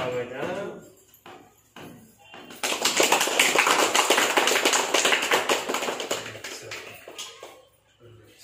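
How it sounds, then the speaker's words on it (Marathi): A crowd claps together at a home housewarming ceremony, a dense burst of hand claps that swells after a few scattered taps, holds for several seconds and then tapers off, with voices talking before and around it. "सर्वांनी टाळ्या वाजवायच्या."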